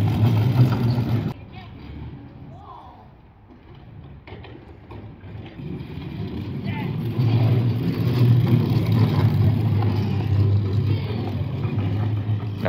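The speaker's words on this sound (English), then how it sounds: "are you doing burnouts? You doing front wheel drive burnouts?" A front-wheel-drive car does a burnout on a concrete pad. A rough, grinding mechanical roar dips for a moment, then builds and holds loud and steady, with voices talking nearby.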